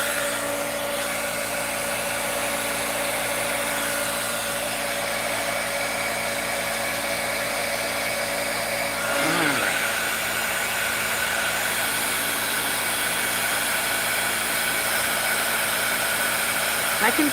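Heat embossing tool blowing hot air onto a stamped card, a continuous loud whirring hum with steady fan tones throughout, slight pitch shifts midway, and no talk over it.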